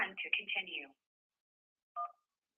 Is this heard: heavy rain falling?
no